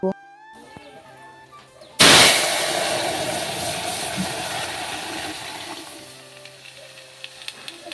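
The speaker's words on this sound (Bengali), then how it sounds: "পাঁচফোড়ন আর শুকনো লঙ্কা সম্বাস দিলাম" Panch phoron and dried red chillies hit hot oil as a tempering for lentil dal, a sudden loud burst of crackling and sizzling that slowly settles, close by, with no voices.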